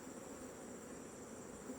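Swarm of enraged honeybees droning at an opened hive as frames are pulled from the box, a steady, dense buzzing that holds at an even level throughout with no voices.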